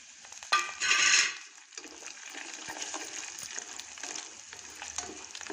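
Dry red chilli and curry leaves spit and crackle in hot oil with urad dal, cumin and fenugreek, a loud sputtering burst near the start that settles into a steady, close sizzle.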